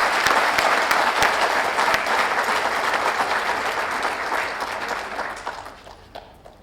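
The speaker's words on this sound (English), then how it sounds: "You should give yourselves a round of applause." Audience at a speech in Rwanda bursts into sustained, dense applause that fills the space, then gradually thins and fades toward the end.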